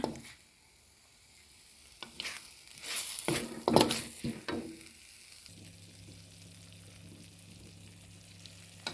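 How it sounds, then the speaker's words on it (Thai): Panang curry paste being stir-fried with coconut milk for a pork panang with pea eggplants: soft steady sizzling with a burst of scraping and stirring clatter in the middle, settling back to a quiet simmering fry. "พริกแกงของเราก็จะผัดไปเรื่อย ๆ จ้า"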